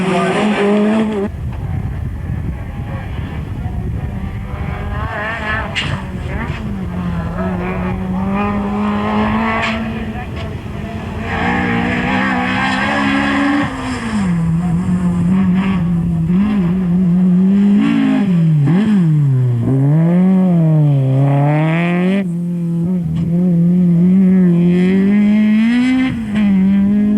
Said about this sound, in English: Classic rotary sound as those wheels spin and bite.